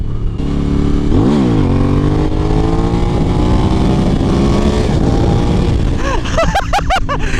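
Suzuki V-Strom 1000 motorcycle with traction control off, accelerating hard through a wheelie: a loud, continuous engine roar rising in pitch, with sharp revving sweeps and gear changes near the end.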